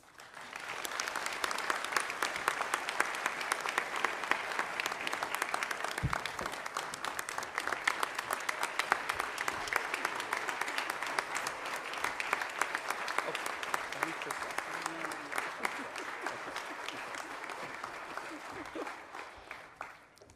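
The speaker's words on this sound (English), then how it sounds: "join me in giving Dr. Namuo once again a round of applause" An audience at a community college presidential investiture breaks into steady, sustained applause lasting about twenty seconds, dense and even throughout before tapering off at the end.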